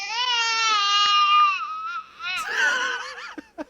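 An infant cries loudly and continuously, a high wailing cry that breaks into sobbing, whimpering gasps toward the end, heard on its own with no talk.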